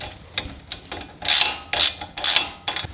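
Ratchet wrench with a 17mm socket tightening the sway bar link nut on a 2020 Toyota Tacoma TRD Pro during a suspension lift install, giving several short bursts of rapid metallic clicking separated by brief pauses, close and clear with no talk.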